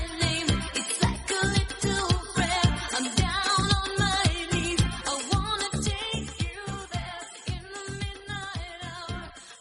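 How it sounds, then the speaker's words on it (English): A song played normally, a full mix of singing voices and dense pulsing instrumentation at steady moderate loudness, heard continuously without talk. "Played forwards, the song sounds like this."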